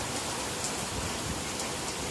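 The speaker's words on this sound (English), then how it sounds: "It's raining sideways." Heavy storm rain pours down in a dense, steady hiss, loud and close throughout the short stretch with no voices over it.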